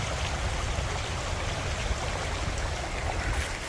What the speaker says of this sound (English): This creek running down here through these trees and this rocky outcropping.